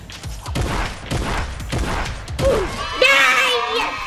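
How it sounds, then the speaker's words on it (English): Rapid bursts of gunfire in the video game Fortnite: Battle Royale, sounding in quick runs beneath excited children's voices talking throughout. "Shoot him. Keep shooting, mister. Keep shooting."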